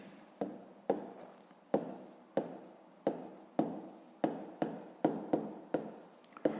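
Pen or pencil scratching on paper in a quiet room during a fifth-grade math exercise, with about a dozen short, regular strokes each starting with a sharp tap and trailing off.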